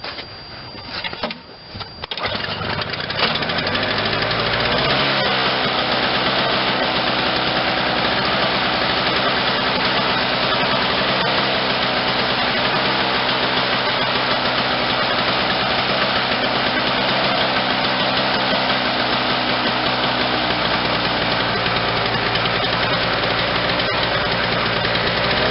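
A cold Toro CCR 2450 snowblower's 5 hp R-Tek engine, with a newly replaced carburetor, sputters, catches and settles into a loud, steady rumbling idle that continues close by without a break.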